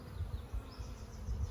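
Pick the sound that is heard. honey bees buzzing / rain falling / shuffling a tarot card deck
honey bees buzzing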